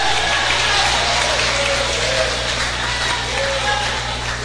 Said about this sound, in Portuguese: manda ele bater palmas para Jesus e dá glória a Deus